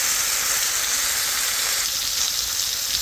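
Garlic, onion and ginger sautéing in a pan for pork monggo, a continuous close sizzle at an even level with light crackling, no voices.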